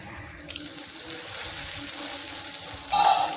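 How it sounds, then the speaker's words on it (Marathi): Cluster beans (guar) steaming in a covered pan, a steady close hiss of vapour that surges louder near the end. "1 ते 2 मिनटासाठी गवारला मी वाफवून घेत आहे. त्याच्यावर झाकण ठेवून घेत आहे."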